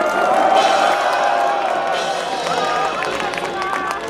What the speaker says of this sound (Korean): 박수로 응원해 주시기 바랍니다